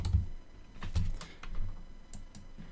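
Keys on a computer keyboard tapped in a brief burst of several clustered strokes, close and moderately loud, with soft pauses between the presses and no voices.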